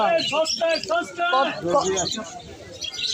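Lovebirds chirp and tweet in quick bursts close by at a bird market, mixed with people talking over them.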